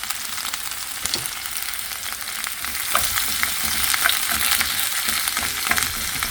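Mixed-colour bell peppers and onions sizzle in a little olive oil, a dense, steady crackle close by that grows slightly louder partway through, with no voices.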